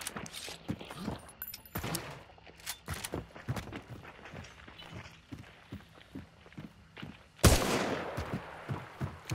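Gunfire in a video game, with a shotgun among the weapons: scattered sharp shots and bursts mixed with footsteps, then one loud, close blast near the end, heard alone with no talking.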